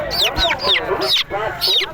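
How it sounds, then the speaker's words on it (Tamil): Several country chickens cluck and squawk up close at a weekly village market in overlapping, rising calls, loud and busy, with a bit of background chatter. "நாட்டு கோழிகள்"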